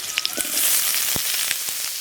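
Cut bitter gourd goes into oil with already-fried potatoes, giving a steady frying sizzle broken by sharp crackles, pops and a few stirring knocks.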